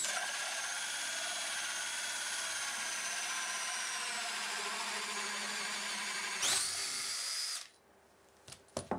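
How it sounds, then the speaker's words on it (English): A hand drill fitted with a hole saw and dropped into first gear bores steadily through wood, a loud continuous grinding whine that holds for several seconds, then cuts out abruptly, leaving faint clicks and handling noise. "I find dropping the drill down into first gear just gives you that little bit more torque with a hole saw"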